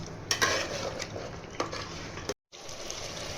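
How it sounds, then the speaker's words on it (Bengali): Mutton korma being stirred in a pan after adding ground cashew and almond paste, with scraping utensil strokes and a soft sizzle, a few sharper clinks, and a brief silent gap near the end. "এবার আমি কাজু বাদাম আর আমন্ড বাদাম যে বেটে রেখেছিলাম ওটা দিয়ে দেবো। দিয়ে ওটা মাংসের সঙ্গে কষতে থাকবো।"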